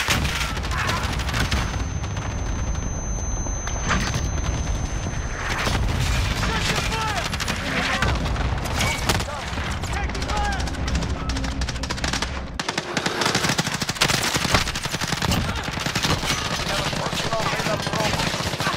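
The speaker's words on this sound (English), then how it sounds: "Cluster strike away." Cluster strike explosions and gunfire in a video game form a dense, loud barrage of rapid shots and booms that never lets up, with voices talking underneath.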